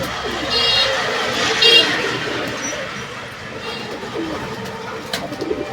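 Lakkha pigeons coo in soft, repeated low calls close by, mixed with a steady background hum of passing road traffic, and a brief louder flutter of sound near the start.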